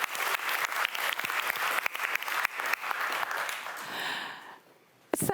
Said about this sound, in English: Which I think is awesome and deserves a round of applause